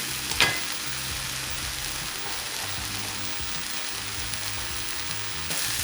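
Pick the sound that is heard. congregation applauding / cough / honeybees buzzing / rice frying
rice frying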